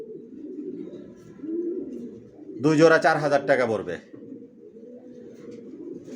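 Racer pigeons in a loft coo steadily in low, rolling calls close by, while someone talks over them for about a second midway, the cooing continuing alone before and after.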